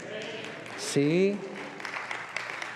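A church congregation applauding, a light patter of clapping running under a voice that speaks a short word over it.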